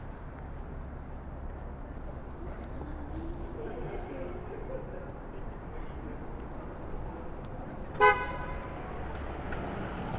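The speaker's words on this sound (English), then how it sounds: "That's why he got honked at." A car horn gives one short, sharp honk at a red light on a downtown Toronto street at night, standing out from a steady rumble of passing traffic.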